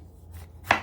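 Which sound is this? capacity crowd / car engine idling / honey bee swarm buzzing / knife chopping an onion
knife chopping an onion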